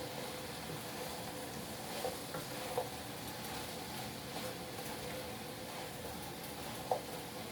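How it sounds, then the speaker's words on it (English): A vegetable medley sizzles steadily in a pan while a utensil stirs it, with a few soft scrapes and knocks over the constant frying hiss. "we're going to stir that around like that"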